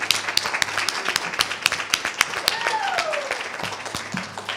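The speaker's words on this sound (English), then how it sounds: "let's welcome our wonderful, our magnificent seven with a big round of applause." A science-event audience welcomes a group of seven performers with a round of applause, dense clapping that holds steady at moderate loudness and tapers off near the end.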